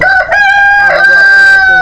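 A tiger-breed rooster crows loudly and close up at a poultry farm, a single drawn-out call lasting under two seconds.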